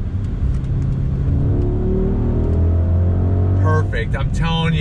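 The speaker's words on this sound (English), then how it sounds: "You're hearing some pops. The downshifts are so sweet, so perfectly planned out" A 2021 Mercedes-AMG GLS 63 SUV heard from inside the cabin while braking into a decreasing-radius turn, its engine rumbling steadily and dropping through downshifts, with crackling exhaust pops bursting near the end under a voice.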